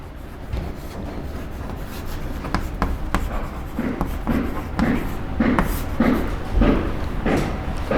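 A teacher in a physics class writes notes on a board, making a steady series of short scratching strokes and taps that grow busier toward the end, with no talk over them.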